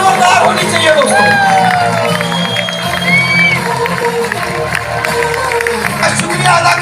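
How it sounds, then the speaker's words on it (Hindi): A packed audience at a Mi Lifestyle business event keeps up loud cheering, with some scattered clapping and bright whistle glides over a continuous crowd roar. "तालियां जोरदार होनी चाहिए दोस्तों।"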